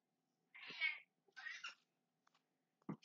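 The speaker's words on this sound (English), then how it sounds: "She always meows." A pet cat meows close by, two drawn-out calls and then a short clipped one, in an otherwise quiet room with no talk.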